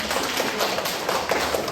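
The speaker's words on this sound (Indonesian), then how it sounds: "Tepuk tangan untuk" A classroom audience applauds after a group presentation, with dense, even clapping close by that carries steadily through the whole brief moment.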